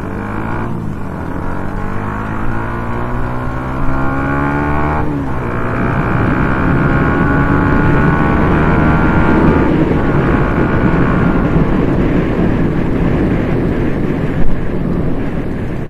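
A motorcycle engine fitted with a Power short stock exhaust pipe, the fuel injection freshly cleaned, revs and holds at high RPM with a rising, droning pitch, loud and close, over steady wind buffeting on the microphone.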